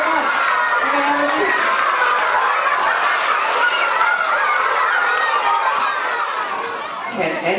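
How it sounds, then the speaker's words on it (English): Children at a school science show clapping and cheering for a volunteer, a loud, dense crowd roar with shouts and chatter mixed in, fading slightly at the close. "Can I have a little applause for Shauna?"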